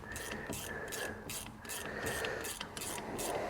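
Crankcase splitter pulling pins from a Yamaha Warrior 350 engine: a steady, close metallic ratcheting and scraping grind with a repeating rhythmic pulse, continuous throughout with no talking.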